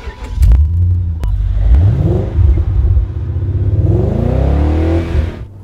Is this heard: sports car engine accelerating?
yes